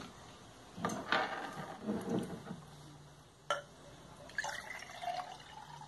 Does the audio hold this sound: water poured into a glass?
yes